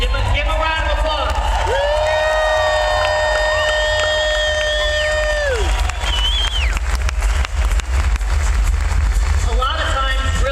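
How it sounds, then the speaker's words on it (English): An audience at a live event breaking into sustained applause and cheering, with loud whistles and whoops over a dense wash of clapping that keeps going throughout. "Give him a round of applause."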